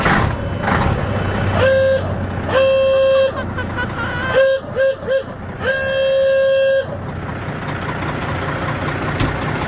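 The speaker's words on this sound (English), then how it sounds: "That's the city horn." A Freightliner truck's city horn honks several times in loud blasts, some long and some quick and clipped, over the rumble of an idling engine; the air horn has no air.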